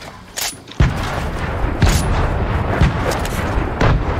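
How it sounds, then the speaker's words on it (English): A grenade goes off in Fortnite Battle Royale as a sharp, loud boom, with a few more blasts and gunfire following through a busy, noisy mix of game sound. "Grenade time!"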